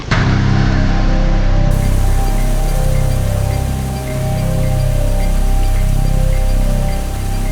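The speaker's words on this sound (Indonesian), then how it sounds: "hujan pun mengguyur dengan derasnya" Heavy rain pours down at night on the way to the Roro Mendut grave in a forest, a loud, dense, unbroken roar of falling water with no voices.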